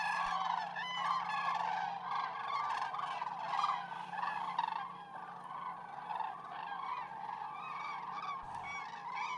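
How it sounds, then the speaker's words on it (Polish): Large flocks of common cranes lift off together at sunset, a dense chorus of overlapping loud trumpeting calls continuing steadily throughout, with no talk. "olbrzymie klucze żurawi wzbijają się w niebo i lecą nad morze"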